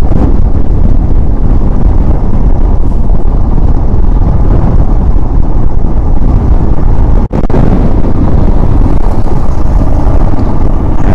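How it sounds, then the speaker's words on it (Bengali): Strong wind blasts roar steadily over a motorcycle ride on a dusty road in Lower Mustang, Nepal, a dense broadband rush filling the whole stretch with one brief dropout near the end. "এরকম উইন্ড ব্লাস্ট দিলে চালানো মুশকিল হয়ে যাচ্ছে"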